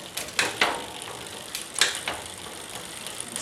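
Rear derailleur on a bicycle shifting across the cassette after a shifter cable adjustment, a few quick mechanical clicks and ratcheting ticks close by with short pauses between, no voices.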